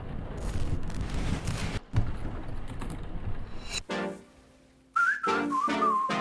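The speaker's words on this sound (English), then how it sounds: "whistling." Melodic whistling enters near the end over a busy, noisy music track, clear and fairly loud after a short drop in the sound.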